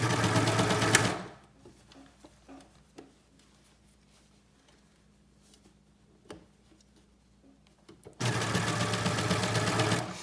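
Sewing machine stitching fabric for sleeveless arm bands on a bomber jacket, two loud close bursts of running with a quiet pause of small handling clicks between them.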